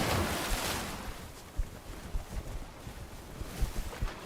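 A sailing ship glides across open sea in the survival game Rising World, with wind rushing past and waves lapping and splashing in soft, irregular bursts.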